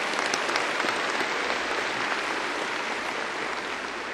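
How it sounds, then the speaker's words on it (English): A large audience at a Middle Tennessee State University spring 2013 commencement ceremony claps steadily, a dense, even wash of applause that holds at the same level for about four seconds with no speech over it. "Let's give our Provost and Vice President a round of applause."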